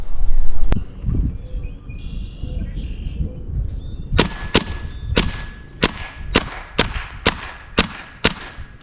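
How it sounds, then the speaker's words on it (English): An air gun fires semi-auto at a cantaloupe, about nine sharp cracking shots in a steady rhythm after a single earlier snap, close and loud, with faint bird chirps and low rumble between. "here's semi-auto shooting, and while it's good enough to hold on to the center of that cantaloupe"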